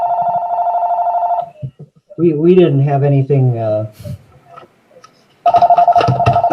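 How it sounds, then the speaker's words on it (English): A cell phone ringtone sounds at a council-style public meeting, a loud steady electronic tone at the start and again at the end, with people talking in between. "I didn't recall that ringtone on the cell phone."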